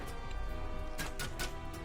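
Gears grind as a lever is pulled in the video game DDO, a dense mechanical clatter with a few sharper clunks near the end, alone at a steady level.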